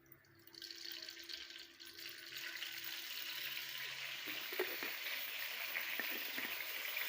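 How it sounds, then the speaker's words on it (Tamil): About 100 ml of sesame oil pours into a container, a soft, steady liquid stream that starts faint and builds into a continuous trickle with small splashy ticks. "இப்போது நான் 100 மில்லி ஆயில் அளவுக்கு நல்லெண்ணெயை நான் சேர்த்துக்கிறேன்."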